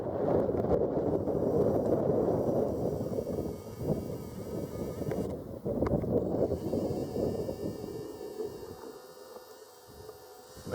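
Wind gusts buffet the microphone outdoors at a pistol shooting range, a loud rumbling roar that swells and eases before dropping away near the end.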